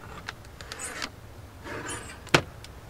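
A Cessna 172 window is opened in the A2A flight simulator game, with soft rattling and scraping movements leading to one sharp, loud latch click near the end.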